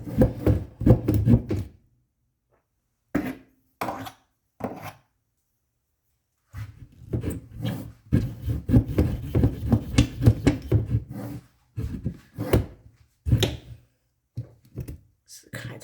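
A wooden sword blank is hand-sawn while whittling, with rasping strokes coming in irregular bursts separated by pauses, close and fairly loud.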